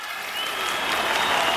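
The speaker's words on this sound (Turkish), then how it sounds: "Onlar için lütfen kocaman bir alkış istiyoruz." A crowd at a gathering applauds young children, with dense, continuous clapping that fills the whole brief moment and grows slightly louder toward the end.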